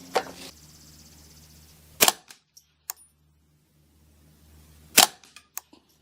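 Three sharp, loud rifle reports spaced a few seconds apart from a custom Ruger 10/22 firing CCI Standard Velocity 40-grain .22LR ammunition outdoors, each a short crack with small echoes and clicks between shots.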